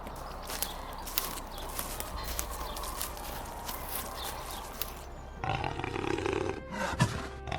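Lions on the African savanna of the Serengeti and Maasai Mara give deep, rough roars over a steady outdoor wash of noise, with soft rustling and movement sounds between calls.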